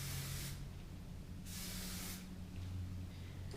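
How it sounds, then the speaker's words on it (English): Two bursts of hairspray hissing from an aerosol can, each lasting about half a second, close and fairly loud. "I'm going to spray with a good strong hairspray all of this."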